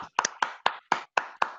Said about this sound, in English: Round of applause to Lassie.